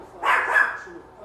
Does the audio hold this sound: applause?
no